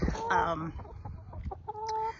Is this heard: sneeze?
no